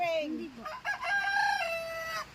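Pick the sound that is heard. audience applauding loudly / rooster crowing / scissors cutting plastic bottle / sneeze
rooster crowing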